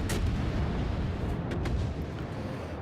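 Warship guns fire in the naval game World of Warships, with a steady, heavy low rumble of battle and a few faint sharper bursts riding on top.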